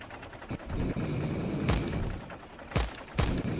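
A tank flamethrower firing in the video game Factorio, a loud continuous roaring rush broken by a few heavy thumps and booms, close and with no talk.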